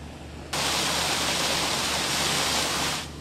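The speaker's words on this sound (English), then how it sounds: "the sound alone tells you how hard and fast the water is pumping out." A water geyser shoots about 25 feet into the air behind the San Diego Convention Center, a loud, steady, close roaring hiss of rushing water that starts abruptly and fades slightly at the end.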